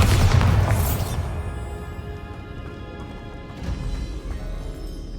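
A heavy magical blast in the Hogwarts Legacy video game, a Bombarda spell smashing a barricade, opens with a loud booming crash that fades into a rumbling, debris-filled tail.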